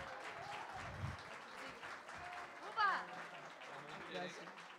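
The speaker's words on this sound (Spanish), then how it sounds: "un aplauso para el bailador, por favor" Applause for a dancer at a live gaita and drum music performance, scattered clapping with crowd noise under a talking voice, moderately loud and brief.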